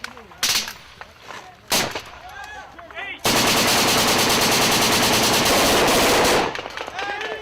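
Combat footage of Marines and SAS under fire carries loud, sustained automatic gunfire. A few sharp shots come first, then a long, dense burst of rapid shooting that fills several seconds before easing off, with voices heard in the mix.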